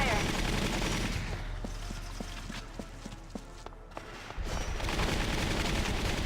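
Gunfire in the PC game Valkyria Chronicles rings out as a run of evenly spaced sharp shots over a dense, steady game soundscape, rising out of the background for a few seconds before fading back into it.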